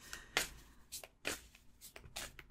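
Soft, quiet riffling and sliding of oracle cards being shuffled, in several uneven bursts close by.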